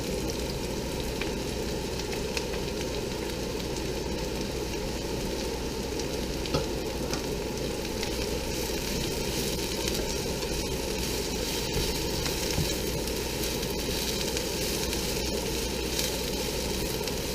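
Mushrooms sizzle in hot oil in a pan while fried rice is being cooked, a dense and steady crackling hiss that stays loud and close without a break.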